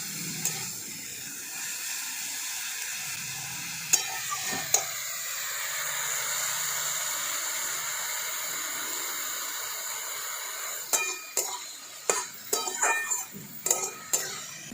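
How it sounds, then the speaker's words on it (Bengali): Greens and vegetables are stirred in a pan with salt and a little turmeric, a soft steady sizzle and hiss broken by sharp clinks and scrapes of a spoon against the pan near the end, close and quiet without speech. "এবার সব কিছু আমি একসঙ্গে নেড়ে নিচ্ছি, মিশিয়ে দিচ্ছি সব কিছু একসাথে"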